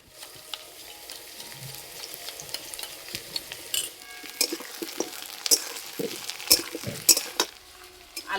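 Potato pieces sizzle in a pan while a utensil stirs and scrapes them, with clinks of metal on the pan growing busier toward the end, and no voices.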